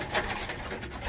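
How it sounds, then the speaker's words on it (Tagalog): Pigeons in a backyard coop coo softly at close range, a short stretch of low, murmuring calls over faint background noise. "Ito po sila mga kalapatids."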